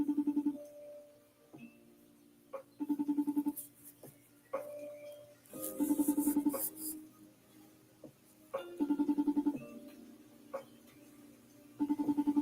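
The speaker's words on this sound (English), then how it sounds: "Answer your phone, Nazim." A FaceTime call rings on a phone in repeated bursts of a bright chiming tone with short gaps between them, fairly quiet and close, with a few small taps and handling noises in between.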